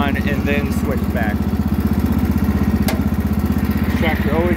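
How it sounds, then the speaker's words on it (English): A Wheel Horse 312-8 lawn tractor engine runs close by with a loud, steady, rapidly pulsing putter, while someone talks briefly over it. "This tractor always scares me when it takes off."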